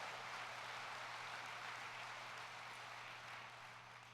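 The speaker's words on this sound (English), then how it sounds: "Let's give all of our chapters a round of applause for their hard work." An audience applauds chapters for their hard work at a Women of the Moose session, a steady, soft wash of clapping heard from a distance that runs without a break and fades slightly near the end.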